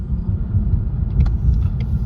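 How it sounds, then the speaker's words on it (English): From inside a Ford EcoBoost Mustang rolling along the road, a steady low engine and road rumble carries on throughout, with a few faint ticks above it. "we are in the super quiet EcoBoost Mustang"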